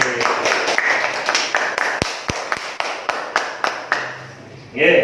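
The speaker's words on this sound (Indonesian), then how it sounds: "Nah, tepuk tangan untuk kita semua." A classroom of students claps in a steady rhythm, sharp distinct hand claps repeating at regular intervals for several seconds before a voice cuts in at the end.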